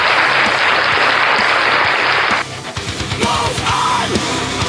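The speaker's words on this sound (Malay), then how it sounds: "Kita berikan tepukan." A burst of applause during a live stream in Terengganu, Malaysia, loud and dense clapping that stops abruptly partway through, followed by quieter scattered sounds and faint voices.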